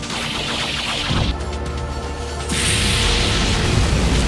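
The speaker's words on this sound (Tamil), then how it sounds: "fire ball jutsu போட்டுருவார்" A fireball jutsu explosion from the Naruto Shippuden anime: a loud, dense roaring blast that swells sharply after a second, then surges again into a sustained, rumbling roar, with no talking.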